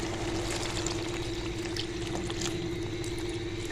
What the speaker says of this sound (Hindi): और इतना पानी डालेंगे कि आलू मटर गल के और थोड़ा सा शोरबा रह जाए